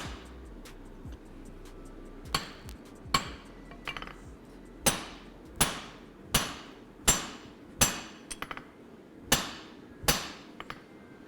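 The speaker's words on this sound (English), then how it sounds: "Gonna drive the drift again." A hammer drives a drift through hot steel while a cross peen hammer is forged, about a dozen sharp ringing metallic blows at a steady, unhurried pace, close and clear with no talk.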